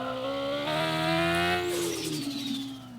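Turbocharged car engine in the video game Car For Sale Simulator, a steady loud engine drone with rising and falling pitch and a whistling turbo spool, continuous with no talk.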